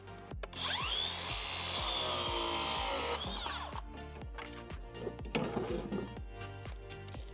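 A Makita cordless circular saw cuts a wooden board into a 10 cm square, the blade whining loud and steady for a few seconds before winding down. A second, rougher burst of cutting follows over repeated tapping knocks.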